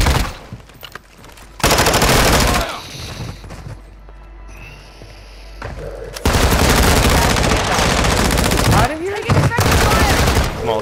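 Heavy automatic gunfire in a video game arrives in two loud, dense bursts of rapid shots, a short one early and a longer sustained volley later, with a quieter gap between them.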